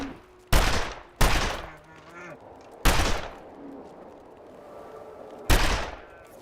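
Four sharp, loud rifle shots fired at a cougar in the survival game The Long Dark, spaced irregularly with short decaying tails and quiet ambience between.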